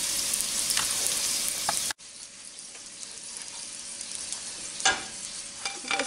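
Seashell-shaped chicken dumplings frying in a pan after being turned over, a close steady sizzle with a brief sharp cut early and a few faint clinks of utensils.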